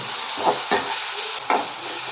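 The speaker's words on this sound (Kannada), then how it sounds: "ಈರುಳ್ಳಿ ಕೂಡ ಬೇಗ ಫ್ರೈ ಆಗುತ್ತೆ" Onions fry in a pan with a continuous close sizzle. A few soft scraping stirs come through over it, and nobody speaks.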